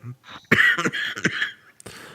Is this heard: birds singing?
no